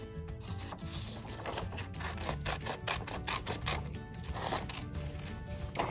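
Scissors trim a sheet of paper for a small handmade cereal-box notebook, giving a quick run of close, quiet snips and paper rustles.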